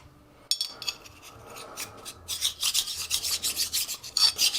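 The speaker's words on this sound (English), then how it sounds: "we're going to use a diamond lap to get this little burr off." A diamond lap rubs back and forth across a part of a Harley Knucklehead engine to remove a burr, making close, raspy scraping strokes in an irregular rhythm after a quiet start.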